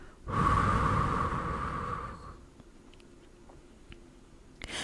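A long, audible exhale during a calm guided meditation, a soft breath out lasting about two seconds, then quiet room tone with small faint clicks.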